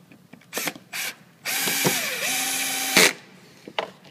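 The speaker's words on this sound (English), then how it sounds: "and then we go through and do all four screws." Four mounting screws being driven in while fitting a dual/triple extruder mount, with a power driver whirring in short bursts and one longer run with a falling pitch, plus ratcheting clicks, close and fairly loud with no talk.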